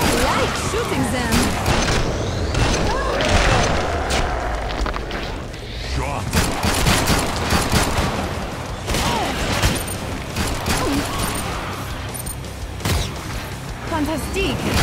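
Rapid gunfire from the zombie shooter game Killing Floor 2, loud bursts and booms crowding the whole stretch with dense, continuous action under a speaking voice.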